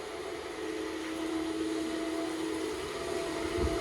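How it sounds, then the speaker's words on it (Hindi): A noisy household ceiling fan running in a home: a constant, even whirring drone with a faint steady hum, close and unbroken for several seconds, with no one talking. "ये पंखे का इतनी शोर करता है ना"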